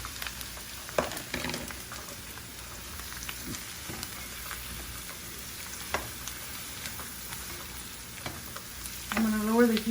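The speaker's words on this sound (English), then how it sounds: "I'm gonna go ahead and throw my carrots in there" Carrots sautéing in a hot pan with already-softened ingredients for orange chicken lo mein, a continuous close sizzle broken by stirring clatters and a short voice near the end.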